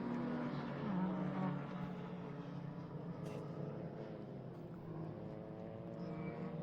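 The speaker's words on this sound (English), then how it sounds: "Slower cars being lapped currently." Suzuki Swift race cars lapping the Grobnik circuit in a Swift Cup Europe race, a steady, droning wash of engine noise from several cars at middle distance with sustained tonal whine and no clear single pass-by.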